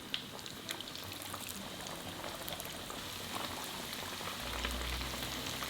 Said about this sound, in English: Carefully put in the salmon fillets.